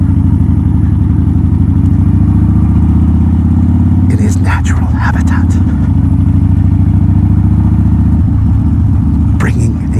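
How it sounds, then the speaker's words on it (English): A loud Harley motorcycle engine rumbles steadily throughout, its deep, loud exhaust note droning close by in a neighborhood near Fallon, Nevada, while someone talks over it. "Bringing a ruckus of loud volume exhaust to the neighborhoods surrounding Fallon, Nevada."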